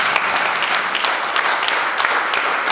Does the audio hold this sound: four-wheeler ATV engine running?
no